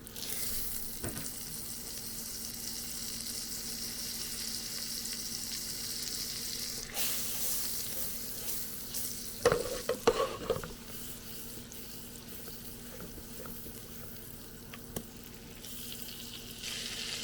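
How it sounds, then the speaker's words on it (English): Butter melting in a pan for a roux, a steady low sizzle and hiss running throughout with a few brief clinks partway through, no voices. "We'll get the butter in there. The butter will start to melt momentarily."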